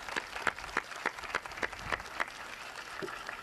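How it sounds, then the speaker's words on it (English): At a 1990 Hall of Fame induction ceremony, a crowd applauds rodeo representatives with faint, evenly spaced claps in a steady rhythm that thin out toward the end. "a round of applause for these gentlemen to represent that great rodeo"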